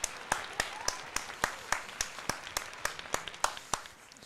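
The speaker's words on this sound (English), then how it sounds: "deserves a round of applause." Sparse, sharp claps ring out at an even rhythm near the microphone as a pitcher is applauded at a Phillies–Orioles baseball game, with a faint murmur of background noise between them.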